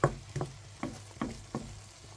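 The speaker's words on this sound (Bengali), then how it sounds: "এই তো এখন নাড়াচাড়া দিয়ে ঢেকে দিব" Mushrooms stirred in a pan with garlic and chili, five soft scraping strokes at a steady pace over a faint background sizzle, quiet and close with no talking.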